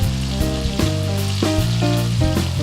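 Chopped onion sizzles loudly in a hot pan for a cassoulet, a steady close crackling hiss with no talk, a few brief spatters rising and falling over the constant fry.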